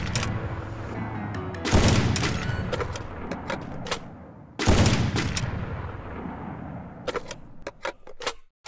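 Sniper rifle shots in Free Fire fire with a no-reload trick: two heavy booming blasts with long echoing tails stand out, interspersed with several quicker, sharper cracks, all clear and close without any talk.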